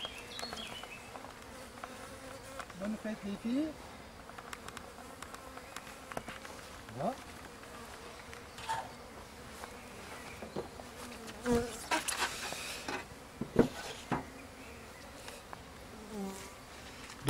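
A steady insect buzz of many honeybees swarming close around a hive, with a person speaking briefly in French over it and some handling noises.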